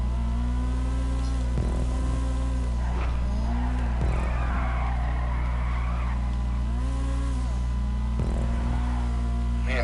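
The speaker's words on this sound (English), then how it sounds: "this car's engine sounds so good though." A loud car engine in a video game drones and revs steadily during a gymkhana event, its pitch rising and falling repeatedly as tires squeal and skid, close and continuous throughout.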